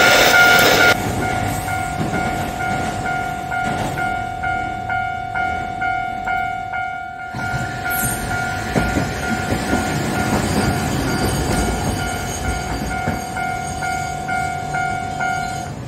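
A Kagoshima City tram rumbles past close behind a tram stop with steady rail clatter and a long squealing wheel tone, swelling as it passes, with no talking.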